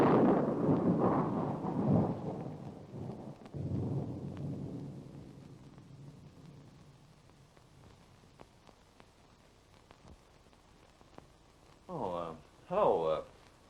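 A deep rolling rumble of thunder builds loud and then slowly fades over soft steady rain, and voices briefly speak near the end.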